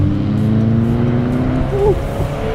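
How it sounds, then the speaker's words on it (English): Subaru BRZ sports car driving past on a city street, engine tone rising and sliding as it approaches and goes by, fairly near and loud over steady traffic noise. "There's that BRZ again."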